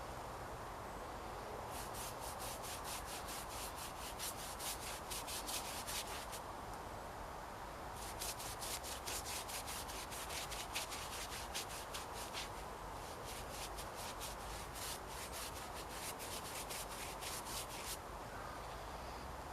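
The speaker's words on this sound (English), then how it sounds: "I thought I'd give the edges of the panel a bit of a coating." A brush rubs a coating along the edges of a wooden garden-bed panel at an allotment, quiet rhythmic scratchy strokes in several bursts with pauses between, alone against faint outdoor ambience.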